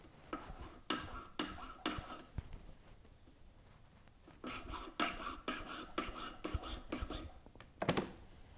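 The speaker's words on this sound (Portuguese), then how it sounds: "a partir de agora a gente vai limar. Eu vou fazer limar as pontas." Hand file rasping the ends of a gold ring under repair, heard as bursts of short scraping strokes in two groups with a pause between, fairly close and quiet, no talking.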